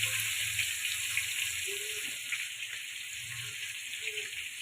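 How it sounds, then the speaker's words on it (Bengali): Onions frying in a pan for paneer khichdi, a steady bright hiss of sizzling oil throughout at moderate level, with faint low clinks and stirring sounds underneath. "পেঁয়াজটাকে লাল করে ভেজে নেব।"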